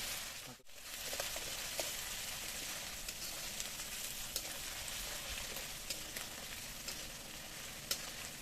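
Ginger garlic paste frying in a pan while a meat curry is cooked, a steady close sizzle running throughout with brief stirring clicks and a short dip near the start.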